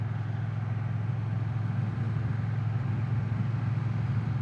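A Triumph Bonneville T120 Black motorcycle engine while riding, a steady low rumbling drone with constant loudness throughout and no voices.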